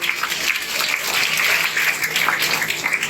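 Sustained applause from a group of school students and staff at a primary school admission festival, honouring ten pupils who passed the entrance exam; dense, steady clapping throughout without talk.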